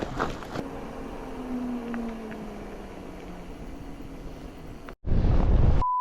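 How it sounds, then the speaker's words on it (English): Strong headwind rushes and buffets the microphone while bikepacking through Death Valley and Nevada, a steady roar that turns into a harsh gust near the end. "Headwind. It's got to be 15 miles an hour."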